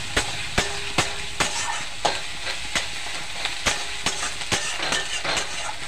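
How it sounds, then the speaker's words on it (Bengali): A paste of ginger, garlic and green chili frying in a pan while being stirred: steady sizzling with regular scraping strokes of a spatula about twice a second, close by, with no talking. "মশলার গন্ধটা যাওয়া পর্যন্ত নাড়তে থাকবো।"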